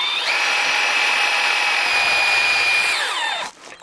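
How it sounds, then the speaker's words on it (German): A power drill bores a hole through an aluminium greenhouse frame, a loud steady high-pitched whine that holds for about three seconds, then winds down and stops near the end. "Aluminium lässt sich ja, weil es ja nachgibt, unheimlich schwer bohren."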